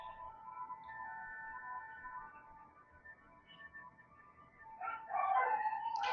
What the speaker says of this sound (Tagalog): Sorry kung narinig niyo yung ingay ng aso.